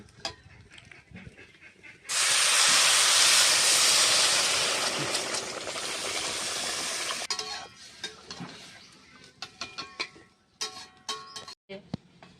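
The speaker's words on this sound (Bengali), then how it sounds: "ডাল সিদ্ধ হওয়ার জন্য আমি জল দিয়ে দিচ্ছি" A loud burst of hissing steam as water hits fried mung dal in a hot pan, roaring strongly for several seconds, then easing into a lower simmer with clinks and stirring.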